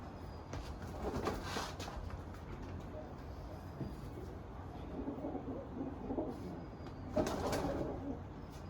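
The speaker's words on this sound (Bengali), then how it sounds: "এই হচ্ছে নর পায়রা" Long-bodied male pigeons with yellow eyes coo in low, repeated murmurs, fairly faint beneath a steady background noise with a distant rumble.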